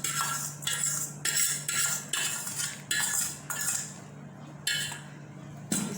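Egg, milk and sugar are mixed into flour in a bowl for doughnut dough. Rhythmic scraping and clinking strokes of a utensil repeat about ten times, close and fairly loud, with no talking.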